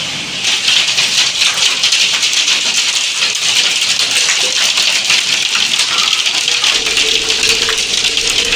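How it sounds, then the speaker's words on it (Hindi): Large hailstones pound steadily on windows and a roof, a dense, loud, continuous clatter with no break. "यहाँ पे देखिए ये ओले पड़ रहे हैं, बहुत मोटे मोटे ओले पड़ने लग गए हैं।"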